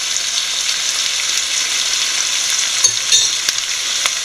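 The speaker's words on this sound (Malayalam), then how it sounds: "അതിലോട്ട് സോയാ സോസ് ഒഴിച്ചു കൊടുക്കാം" Soy sauce goes into chicken frying in a pan for Chinese chilli chicken, producing a loud, steady hiss of sizzling with a few faint clicks near the end.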